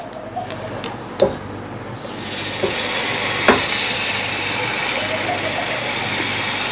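Rice flour uttapam batter poured onto a hot oiled tawa. After a few clinks, a steady broad hiss of sizzling rises and keeps going, with a soft talking voice beneath it.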